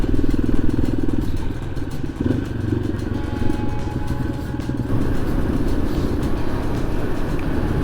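Motorcycles riding on desert sand dunes in Morocco, a continuous rough engine roar with clattering and varying throttle, loud and close throughout with no talk.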